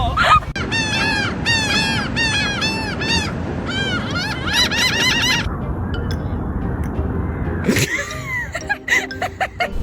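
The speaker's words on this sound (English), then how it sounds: "I caught a seagull!" Gull-like honking and squawking calls repeat in rapid bursts through most of the stretch, loud and close, mixed with shouting and excited talk toward the end.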